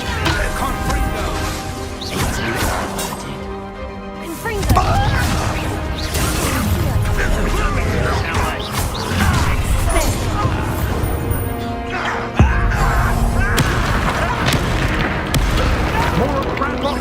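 In the Hogwarts Legacy video game, the Confringo blasting spell erupts in loud booming explosions and crashes amid frantic combat. Characters shout over the repeated blasts.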